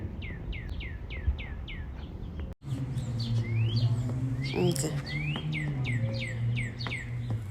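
Outdoor birdsong in a garden: a rapid series of high descending chirps, then several birds calling and twittering over a low continuous background hum.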